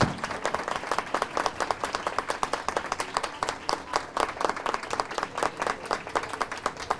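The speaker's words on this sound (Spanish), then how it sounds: "Un gran aplauso." A big round of applause for the panelists at a public procurement planning session, with crowd clapping in quick overlapping bursts and distinct individual claps standing out against the steady roar, holding strong for the whole stretch.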